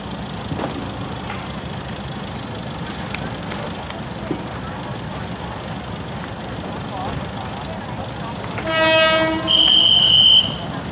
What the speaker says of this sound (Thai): มาแล้วครับขบวนรถนะฮะ ขบวน 4313 วงเวียนใหญ่มหาชัยนะฮะ